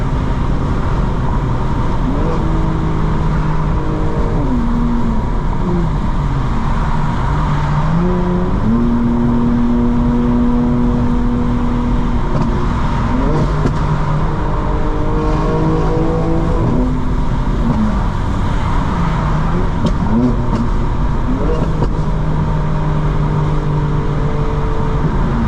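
A 900hp 2025 BMW M4 Competition xDrive drives and accelerates hard, its engine climbing through repeated rising rev sweeps with gear changes, loud and steady from inside the car.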